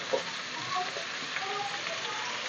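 Onion and capsicum sauté in a hot pan, giving a steady faint sizzle with occasional soft stirring clinks throughout.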